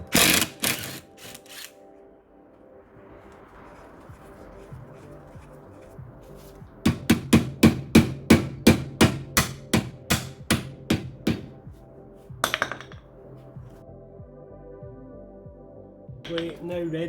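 A bolt on a Hyundai i30 knocked with sharp metallic taps, first a few strikes, then a fast series of about a dozen evenly spaced hits, close and loud, with someone talking at times.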